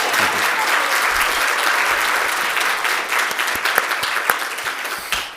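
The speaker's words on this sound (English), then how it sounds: "Yes, we can applaud that." An audience at a regional civic event applauds a community nonprofit president and CEO, a dense, steady wash of clapping that thins toward the end into scattered individual claps.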